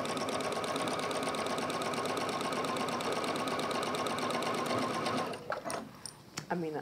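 A sewing machine runs basting stitches through William Morris tapestry fabric, a loud, steady, rapid mechanical chatter lasting about five seconds before it stops, followed by a few brief handling clicks.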